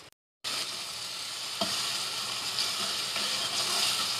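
Finely chopped medium-sized onion hits hot oil and ghee for a beef Shinwari keema karahi, bursting into a loud, steady crackling sizzle after a brief silence, with a spoon clack partway through; no talking.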